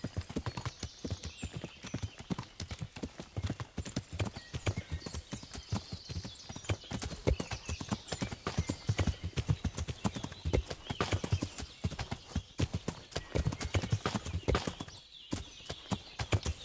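Horse hooves clip-clop in a steady, continuous rhythm throughout a ride in the medieval game Kingdom Come: Deliverance, fairly close and even, with a brief lull near the end.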